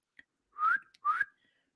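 A person whistles two rising, slightly strained notes in succession, close and clear against silence, with a faint click before them.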